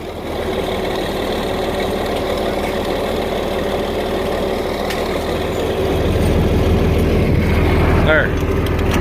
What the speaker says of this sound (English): Need to listen to that thing rattling away while we fold the rest of this up.